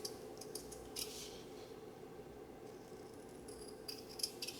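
Scissors cutting fabric for decorating a handmade journal, quiet crisp snips and slicing strokes in short bursts, close by against a faint background hum.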